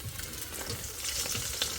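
Fish frying in hot oil in a wok gives off a brief, soft, steady sizzle at low volume.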